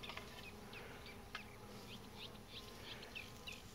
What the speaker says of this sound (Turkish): arılar nar çiçeklerinden işte böyle polen alıyorlar